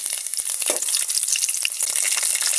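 Olives, five-spice, garlic and oil fry in a pot with a steady bright sizzle and crackle and occasional faint stirring clicks.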